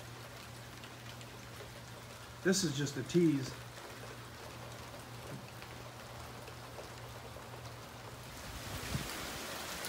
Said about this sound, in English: If and when we do finally get rain, it's like this.